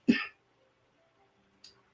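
One short, sharp cough sounds close to the microphone, followed by near silence and a faint, brief second burst.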